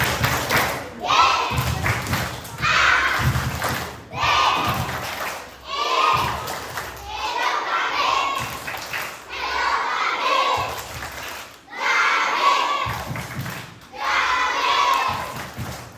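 Children in a Buddhist class in Deli Serdang do the Tepuk Gabi chant, voices calling out in time with repeated rhythmic claps and thumps, loud and close, in about seven bursts.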